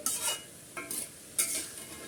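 Cooked dhenki greens are stirred and mixed in a pan in three distinct scraping bursts, each a short rustle of spoon against the pan, with quiet gaps between them and no voices.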